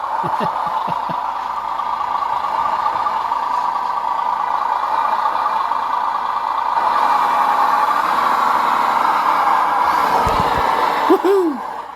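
A 1/14 Tamiya Grand Hauler Peterbilt RC dump truck's onboard sound system plays a steady, loud engine drone throughout, with a few brief low thumps near the start and a rising whine near the end.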